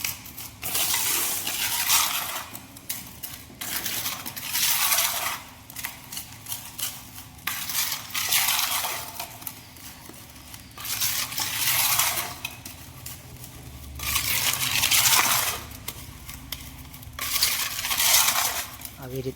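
Tile grout filler being stirred and mixed with chemical by hand, giving repeated scraping, gritty crunching strokes in bursts with short pauses, fairly close and moderately loud.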